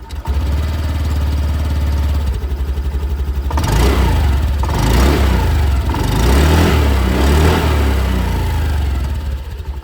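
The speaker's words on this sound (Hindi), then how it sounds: "तो ये था दोस्तों एग्जॉस्ट साउंड" A 2025 TVS Jupiter 125 scooter's 125cc engine idles and revs near its exhaust, a loud low chugging that swells through several throttle blips before settling back.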